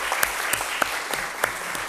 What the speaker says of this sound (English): Let us give a big round of applause